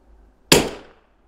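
A rimfire rifle shot fired from a heavy, stable tripod, one sharp crack at mid-distance that decays quickly in an otherwise quiet outdoor setting.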